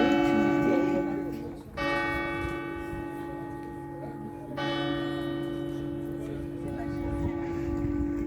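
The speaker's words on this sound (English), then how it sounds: "That bell." A church bell tolls at eleven o'clock near a cathedral in rural France, each deep, ringing strike blooming and sustaining into long overtones, two clear strokes heard amid faint outdoor background and distant voices.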